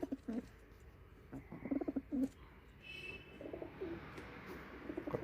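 Malwai pigeons coo softly in short, repeated throaty phrases, a few bursts clustered together, with quieter gaps and faint background noise between them.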